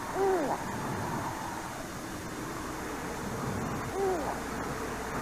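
A great grey owl hoots twice, a few seconds apart, in a forest near Winnipeg, Canada, each call moderately close over a steady background hum.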